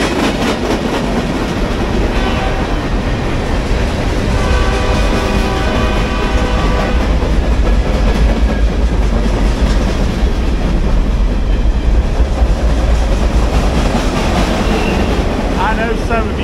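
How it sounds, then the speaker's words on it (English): A full-size train rolls by very close beside an abandoned Southern Railway station in Limestone, Tennessee, with loud, continuous rumbling and clickety-clack of wheels over rail joints, sharp squeals near the end, and occasional voices underneath. "oh, here comes a train"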